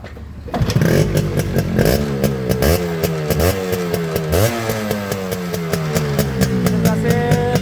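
A Yamaha RX 100 motorcycle engine fires up about half a second in and keeps running loud and close, revving up and down repeatedly in a rough, buzzing rhythm, with no talk over it.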